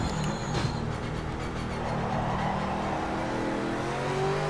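Ford Mustang race car in the video game Project Motor Racing, its engine droning steadily at high revs with a rising pitch sweep through a gear change, loud and continuous with no talking.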